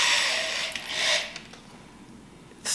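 A drill drives a wooden peg through a hole in a scrap steel plate so the edge scrapes the wood. It sounds like a rough, breathy rasp that swells near the start and again around one second, fades to a quieter grind, then flares briefly at the end.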